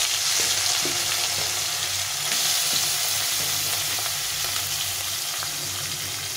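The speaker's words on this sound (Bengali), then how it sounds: "তো এখানে আমি তেলটা গরম করে নিয়েছি, তেলের মধ্যে ছেড়ে দেবো।" Fish frying in hot oil crackles in a continuous, fairly loud sizzle, with occasional small clicks of movement in the pan and no voices.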